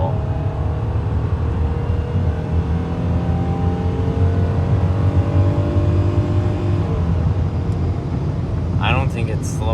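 A car with a 2.7 engine rated at 200 horsepower accelerates at full throttle from inside the cabin, a loud steady engine drone with rising tones throughout, and a brief voice near the end.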